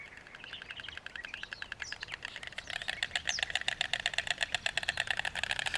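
Birds call in a reserve set among rice fields near Seville, giving faint, fast, rhythmic chirping that grows busier partway through, over a low distant rumble.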